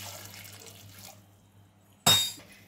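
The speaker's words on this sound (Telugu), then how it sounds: "తగినంత వాటర్ వేసుకొని" After a quiet low hum, a short, loud splash of water pours into a metal pressure cooker holding raw bananas close by, then quickly tails off.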